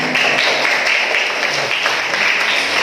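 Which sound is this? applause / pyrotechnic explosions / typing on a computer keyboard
applause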